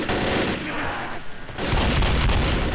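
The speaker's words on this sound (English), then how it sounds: "I threw a pipe bomb" A pipe bomb explodes in the Left 4 Dead video game: a dense, loud roar of blast and crackling noise that dips briefly, then surges again, with rapid gunfire mixed into the din.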